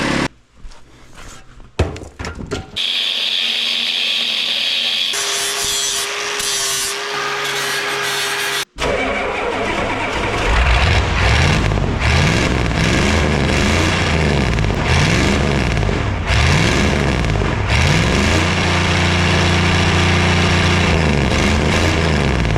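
A Ford 7.3 IDI diesel engine fitted with a muffler starts after a few clunks and tool noises, then settles into a loud, steady, rumbling idle close by.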